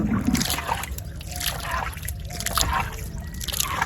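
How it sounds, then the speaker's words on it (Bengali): Water is scooped and tossed out of a small country boat on a wetland, with repeated splashes and trickles in a loose rhythm close by, over a low background rumble. "একজনে পানি সেচতেছে নৌকা থেকে"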